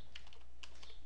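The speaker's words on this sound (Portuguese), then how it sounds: "vou começar a escrever o código aqui." Several light keystrokes on a computer keyboard while code is typed, soft, close clicks in an uneven quick burst over a quiet background.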